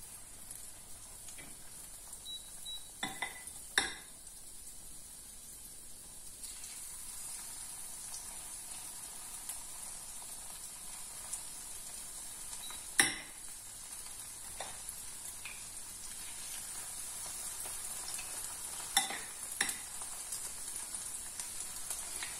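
Zucchini fritter batter is spooned into hot oil in a pan and left to fry. A soft, steady hiss of sizzling continues throughout, broken by a few sharp clicks and taps of the spoon against the pan.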